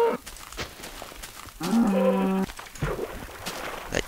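A single cow moo from the Minecraft game, a clear drawn-out bellow lasting under a second amid quiet clicks and background game noise.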